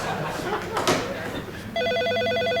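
A landline telephone rings with a steady electronic warble repeating in short bursts, starting partway through and fairly loud, following a stretch of background noise.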